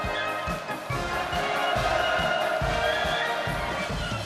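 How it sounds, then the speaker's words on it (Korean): A large crowd of staff and students roars and cheers in a steady, dense wall of voices as Kim Jong Un arrives at a national defence university celebration. "김정은 동지께서 도착하시자 열광의 환호성이 세차게 분출했습니다"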